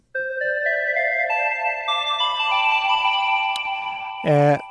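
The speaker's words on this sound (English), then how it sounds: "So today we're going to go over a bell sound" Synthesized bell tones ring out in overlapping, sustained chimes that build a shimmering layered chord, ending with a short buzzy synthetic burst.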